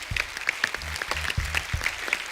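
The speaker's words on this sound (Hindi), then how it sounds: "एक बार जोरदार तालियां हो जाएं फिल्म थप्पड़ की पूरी टीम के लिए" A television studio audience breaks into steady, sustained applause for a film team, dense clapping carrying on throughout, with faint low thumps beneath and little talk.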